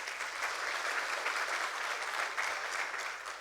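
Steady applause from a congregation at a church service during a wedding, many hands clapping in a continuous, even wash that is moderately loud and unbroken, with no voices over it.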